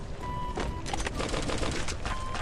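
MAC-10 gunfire in the Free Fire mobile game, a rapid, dense burst of shots that runs throughout the short stretch at moderate level.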